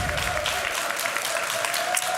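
A crowd at a judo competition applauds steadily and cheers throughout, a dense wash of clapping heard close and loud.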